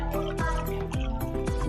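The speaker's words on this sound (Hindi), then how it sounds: "ये पानी इसके अंदर डाल के" Water poured from a jug into a blender holding yogurt, with bubbly glugs and drips repeating in a quick uneven rhythm, close and clear.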